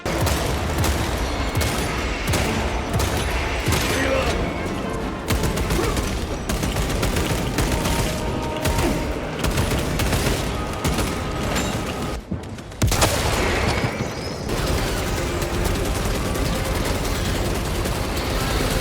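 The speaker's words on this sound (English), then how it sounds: "Bolters. They sound like you want them to." Heavy, continuous bursts of rapid bolter gunfire in Space Marine 2 with booming impacts, loud and relentless, broken only by a brief pause before the shooting resumes.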